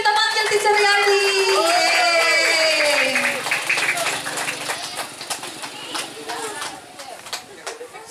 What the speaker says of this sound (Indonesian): Ayo tepuk tangan, kita panggil Teacher Riyadi.